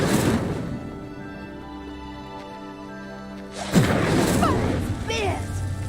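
Incendio fire spell cast in Hogwarts Legacy to set a pyre alight: after a low ambient hum, a sudden whooshing burst of flame erupts and crackles on, loud and close.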